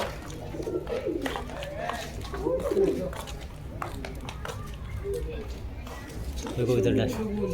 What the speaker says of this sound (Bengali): বিদেশি ঘুঘুই তো মিয়া, দেশি ঘুঘু মনে করছো?